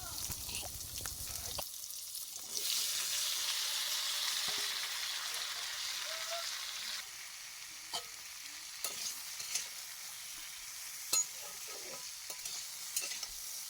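Sweet pumpkin pieces drop into hot oil in a heated wok with a sudden hiss that settles into a steady, fairly quiet sizzle, with scattered stirring clicks and no voices.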